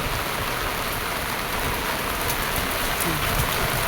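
Steady rain hisses continuously and fairly loudly throughout, with no other distinct sounds.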